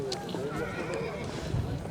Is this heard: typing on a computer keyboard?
no